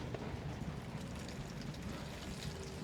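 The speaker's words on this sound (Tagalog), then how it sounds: "Araw na may ulan." Light rain falls during sunshine as a faint, steady hiss and patter that runs evenly throughout with no voices.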